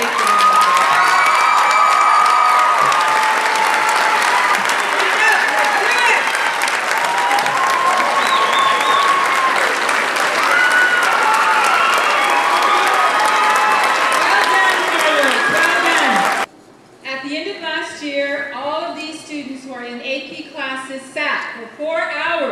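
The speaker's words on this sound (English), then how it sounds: "let's give him a big round of applause" Loud, sustained applause with cheering and whoops from a high school audience honoring a student at an AP awards ceremony, filling the hall for about sixteen seconds before cutting off to a lone voice speaking.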